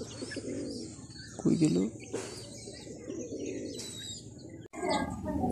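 A wild dove cooing near a farmyard where it feeds alongside chickens, soft low coos and some chirps at close range, with a person speaking briefly over them.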